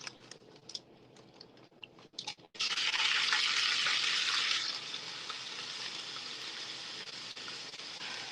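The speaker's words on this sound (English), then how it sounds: "I'm frying." Chicken sizzles in heated olive oil in a pan, a loud steady hiss that starts suddenly after some faint clicks and clatter, then settles slightly quieter.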